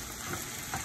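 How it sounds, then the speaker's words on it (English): Saltfish and mixed vegetables sizzle and fry in a pan, a dense continuous crackle with brief stirring scrapes, close and fairly loud. "so you're just frying it up"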